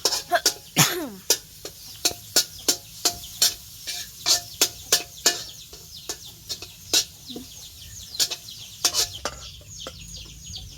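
Garlic and pork stir-fry in a hot pan, a spatula scraping and clacking in quick, irregular strokes over a low background sizzle.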